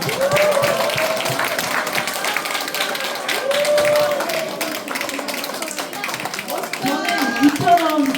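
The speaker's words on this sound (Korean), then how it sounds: "박수 부탁드립니다." Sustained audience applause at a lecture event, steady and fairly loud for the whole stretch, with a voice or tonal sound running over it.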